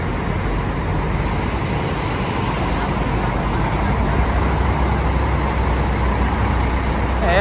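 An Embaixador intercity coach pulls out of the Porto Alegre bus station bound for Pelotas, its engine a steady loud rumble amid surrounding traffic noise, continuous and close throughout.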